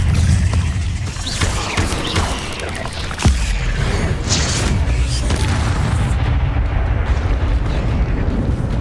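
Explosive blasts from the Confringo spell in the video game Hogwarts Legacy, heavy loud booms and rumbling bursts, with a sharp crack partway through and a sustained roar after.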